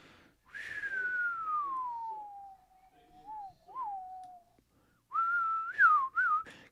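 A person whistles a Western-style tune alone: a long sliding note that falls slowly, two brief bends, a pause, then a higher wavering phrase, clear but fairly soft.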